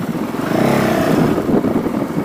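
Honda CRF450L motorcycle engine turning over near idle while riding, a steady low throbbing putter that swells slightly in the middle, close and continuous with no voices.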